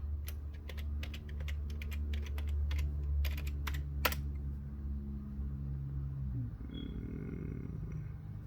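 Keys clatter in quick irregular bursts as login credentials are typed on a computer keyboard at a Fedora workstation, fairly close, over a steady low hum, with the typing stopping partway through.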